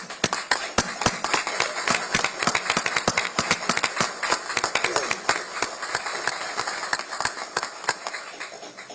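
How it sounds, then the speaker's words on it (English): A small audience at a Pierce County Council meeting claps, with sharp, distinct individual hand claps in an uneven, scattered rhythm that holds steady for several seconds in a quiet room. "Let's give a round of applause."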